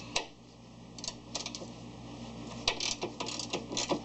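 A ratchet wrench clicks in rapid bursts while a 10mm bolt is removed from a Ford Explorer near the window washer reservoir pump, with close, light metallic ticking and short pauses and no talk.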